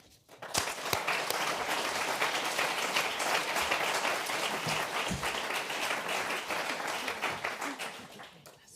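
A lecture audience claps steadily for a guest professor at a science and society event, a full wash of applause that swells quickly, holds for several seconds, then tapers near the end.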